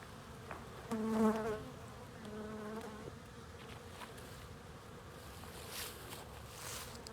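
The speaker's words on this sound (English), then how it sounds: "Quite a few bees, quite a bit of activity." Honeybees buzz steadily at a hive entrance on a warm December day, a dense humming drone that swells for a moment and then settles into a constant hum.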